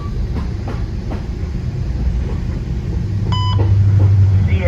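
VRE commuter train #336 riding the tracks from Broad Run Airport toward Washington DC, heard from inside as a loud continuous rumble with rhythmic clicks of wheels over rail joints, plus a short electronic beep.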